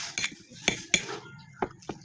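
A fork clinks and scrapes against a plate or bowl while stirring a hot breakfast of corned beef, several sharp metallic taps at uneven intervals, close and clear.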